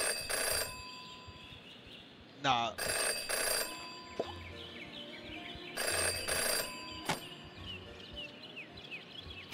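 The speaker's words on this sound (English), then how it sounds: "Jenny had learned never to ignore a ringing phone." An old-style telephone bell rings in the video game Jenny LeClue, in repeated bursts with short gaps between them. A voice speaks briefly, and chirping game sounds play in the background.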